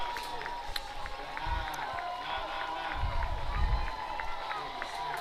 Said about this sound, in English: the crowd is pumped up as they head across the field